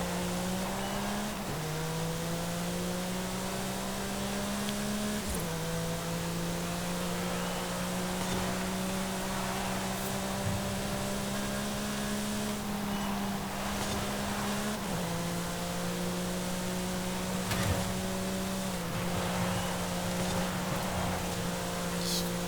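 A 503-horsepower car racing around a track in the video game Forza Horizon 5, its engine a steady, loud droning whine that steps down in pitch at each gear change every few seconds.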